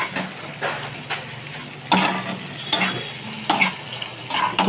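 Egg curry being sautéed in a pan in a home kitchen, a soft sizzle under repeated spatula scrapes and taps against the pan, arriving in irregular strokes at moderate, fairly close volume.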